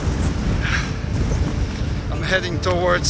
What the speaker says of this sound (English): I've never experienced wind like this.